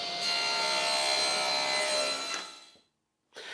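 A saw rips wooden boards lengthwise to a two-inch width, a loud continuous cutting whine for over two seconds that winds down into silence before a short burst of noise returns.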